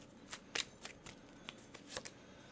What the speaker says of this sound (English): So let's do some shuffling here really quick.